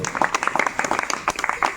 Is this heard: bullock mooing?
no